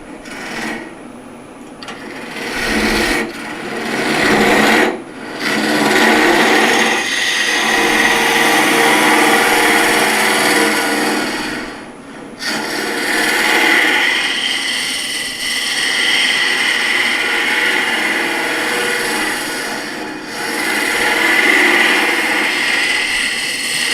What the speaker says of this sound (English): A little bit more to drill through.